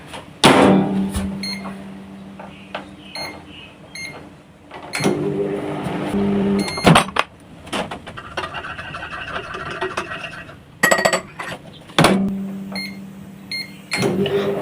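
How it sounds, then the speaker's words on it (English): A microwave hums steadily with a low drone, broken by clicks, a beep and scraping, rattling handling noises nearby. "While that is in the microwave"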